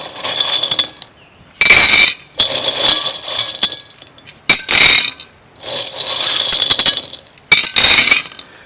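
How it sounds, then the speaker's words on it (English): Coarse gravel pours into the bottom of a round vase in several loud, rattling bursts of clattering stones separated by short pauses, close up with no talk. "Now I'm going to put some coarse gravel in the bottom"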